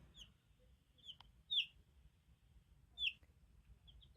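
Small high-pitched chirps from a young Wyandotte chick, a few short calls spaced out over a quiet background with low room hum.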